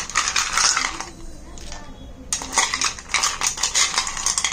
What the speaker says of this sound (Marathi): आता मेन इन्ग्रेडियंट यामध्ये राहिलेला आहे ते म्हणजे आईस क्यूब. तर ते आपण टाकूया.